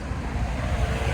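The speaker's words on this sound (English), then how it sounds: "Sorry for the traffic noise." Steady roar of passing road traffic close by, a broad rushing wash of engine and tyre noise with no voices.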